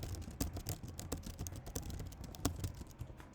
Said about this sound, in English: I'm just typing something random.